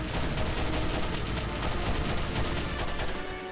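Rapid gunfire from Call of Duty: Modern Warfare on the Nintendo DS, a dense, loud, continuous barrage of shots filling the clip without pause, with no voices over it.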